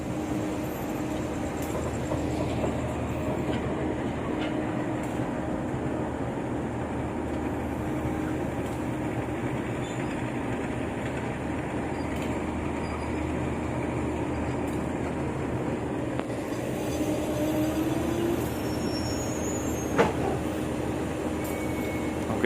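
An Indonesian freight train shunts slowly along the rails in a dark, non-passenger yard. A steady low rumble and rolling drone hold throughout, with faint squeals and one sharp knock near the end.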